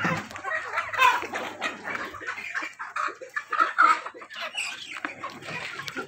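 Hens on a farm cluck in irregular bursts, with some louder calls standing out over a busy background of other farmyard sounds.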